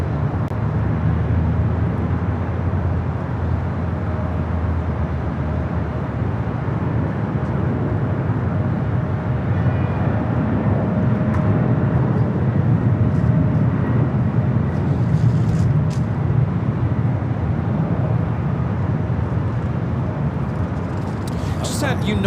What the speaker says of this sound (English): It's a 777-200 ER coming in from Newark.